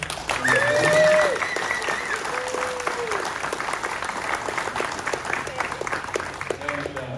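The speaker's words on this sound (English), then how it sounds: "I'd like a round of applause for all the work." Audience applause at the opening of the 2nd Colorado Rail Prototype Meet: steady crowd clapping for the full stretch, loudest near the start, with some voices over it.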